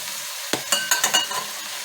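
Mutton pieces frying in a pan for palak gosht, stirred with a spoon: a quiet steady sizzle broken by five or six sharp scraping, clattering stir strokes in uneven rhythm, close by and with no voices.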